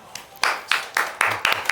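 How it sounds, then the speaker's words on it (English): Six or so distinct hand claps in a quick, slightly uneven rhythm, close and crisp, from a single person or small group. "Team Gahurg would like to take a second to give Alphinius a round of applause."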